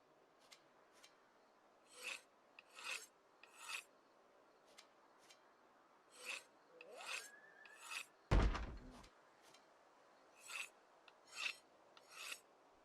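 A tool is sharpened in the video game Project Zomboid: short, quiet rasping strokes repeat at irregular intervals, with one louder, harsher scrape partway through.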